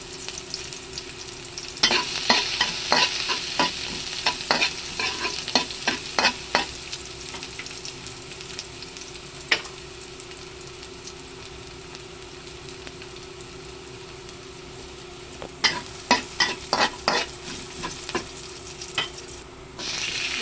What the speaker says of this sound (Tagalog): Gigisa muna natin ng ating bawang